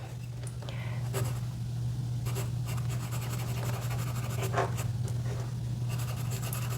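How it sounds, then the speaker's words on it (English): Pen or pencil scratches across paper while writing by hand in an art journal during a mixed media session, intermittent close strokes over a steady low hum. "And then I'm gonna write"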